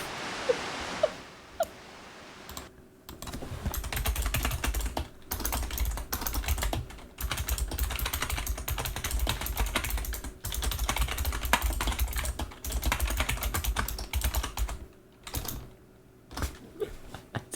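Fast, continuous typing on a computer keyboard, close and fairly loud, with clattering keystrokes and low thuds in long bursts broken by a few brief pauses.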